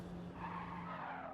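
A race car skids and fishtails around the track, giving a faint, continuous tire squeal over a low engine hum throughout.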